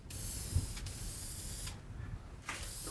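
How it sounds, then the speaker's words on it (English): A spray finish is applied to a freehand cedar carving in a few bursts of aerosol hiss, steady stretches broken by short gaps, close and moderately loud. "I really should have done this at the other end so I don't spray my sleeve"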